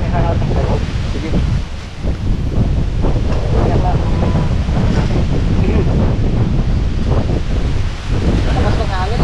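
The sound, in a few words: strong wind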